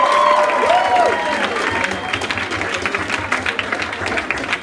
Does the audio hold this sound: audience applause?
yes